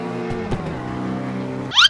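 A racing car engine in the mobile street-racing game CarX Street drones steadily at moderate loudness, then rises in a sharp burst at the end.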